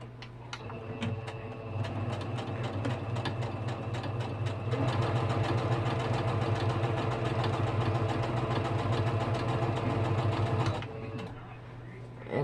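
A sewing machine sewing quilt pieces hums and clatters steadily for about ten seconds, speeding up partway through, then goes quiet near the end.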